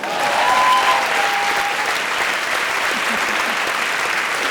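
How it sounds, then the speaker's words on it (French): A theatre audience gives a sustained, full round of applause for a girl in the room. The clapping is dense and even from start to finish, with a brief whistle near the beginning. "On peut l'applaudir."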